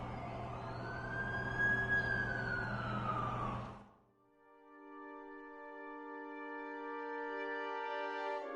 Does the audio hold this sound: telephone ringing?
no